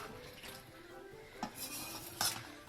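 A beef and vegetable stir fry is mixed in a pan, giving soft scraping and a couple of clear utensil clinks against the metal over a quiet background, with no voices.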